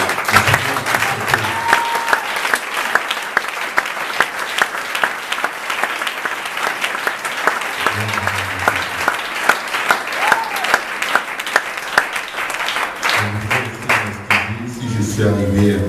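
A church congregation applauding, with steady loud clapping throughout that blends with crowd noise and scattered voices.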